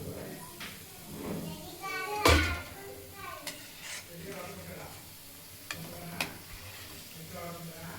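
Pakundalu sweets sizzle in hot oil in a village kitchen, a moderate frying hiss with stirring scrapes and a sharp clank of a pan, while children's voices chatter faintly in the background.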